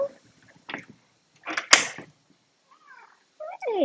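A cat meows a few times in short, scattered calls, close by and moderately loud, with brief pauses between them and soft rustles around.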